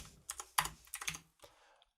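Several quick keystrokes tap on a computer keyboard during a C# programming session, irregular clicks close up and fairly quiet, with no voice over them.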